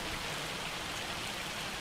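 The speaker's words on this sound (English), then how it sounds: "I think this is hail. Definitely sounds like it." Hail falls steadily in the farming game Farming Simulator 25, a dense, even hiss of pelting ice with no pauses, fairly quiet and with no voices over it.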